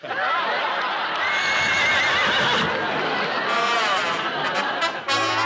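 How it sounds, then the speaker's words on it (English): A horse neighs loudly and at length, a shrill, quavering whinny close up, with faint hoof and stable noise behind it. "Oh, dear, I wonder what's the matter with that darling horse."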